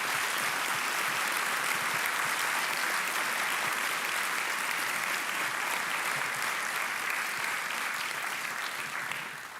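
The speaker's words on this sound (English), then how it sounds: "please, let's give them a round of applause" Audience applause at an awards ceremony honoring innovators, steady, dense clapping from a full room that carries on for nearly ten seconds before easing slightly at the end.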